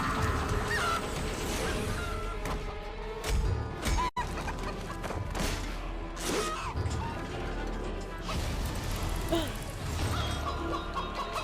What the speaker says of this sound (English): This poor chicken.